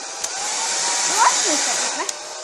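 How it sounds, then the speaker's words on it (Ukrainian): A hair dryer on its medium setting blows a steady airy whoosh for a parrot's drying, with faint chirps and small clicks over the constant hiss. "Я взяла фен. Так, і включаю на середню."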